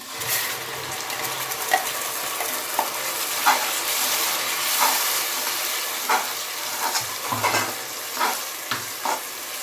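A ground paste of ginger, garlic, cinnamon, cloves, coriander leaves, mint and green chillies hisses steadily in a hot pan, a continuous loud sizzle broken by frequent scraping stirs and small clatters, close and without talk.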